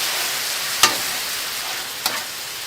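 Hibachi chicken sizzling on a hot griddle, a steady close broadband frying hiss broken by two sharp spatula scrapes or clacks, with no speech.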